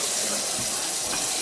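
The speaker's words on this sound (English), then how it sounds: "You want to run the cold water so we don't put hot water down our garbage disposal?" Cold water gushing from a kitchen sink tap into the basin, a loud, steady rushing stream that holds without pause, close by and unaccompanied by talk.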